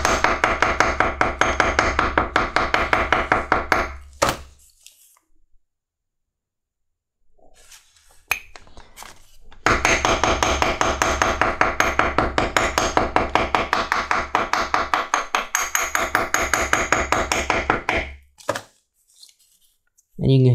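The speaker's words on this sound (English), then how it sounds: "you can kind of dome that rivet a little bit, kind of roll those edges down" Steady rapid hammer taps dome a rivet on a leather knife sheath for an old bowie knife, two long bursts of sharp, close, rhythmic strikes separated by a quiet gap, with brief louder blows at the ends.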